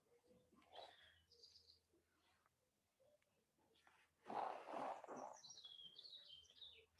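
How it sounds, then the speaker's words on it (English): Birds sing outdoors, faint and distant, with thin chirps and whistled phrases, a fuller burst of calls midway and rising warbled notes toward the end over a quiet background. "we can listen to the birds today"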